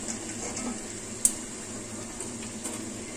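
Chicken fries in a pan for Sindhi biryani, giving a soft, steady sizzle with one brief sharp clink of a utensil partway through.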